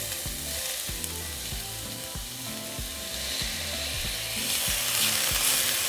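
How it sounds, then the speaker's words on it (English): Chopped onion thrown into hot oil in a frying pan for a Mexican chicken soup sizzles loudly and steadily, close and alone, with a broad crackling hiss throughout. "once our oil is hot, we're going to throw in our onion"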